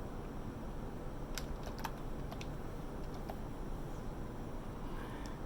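Rapid keystrokes tapped on a computer keyboard while entering a password, a handful of sharp clicks in short bursts over a steady low room hum.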